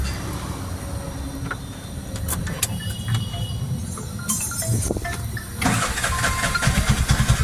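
A Bajaj BS6 auto rickshaw with a P030 fault code is started by key. Its engine cranks and catches with a sharp rise in loudness, then settles into a steady, close, rattling idle with no talk over it.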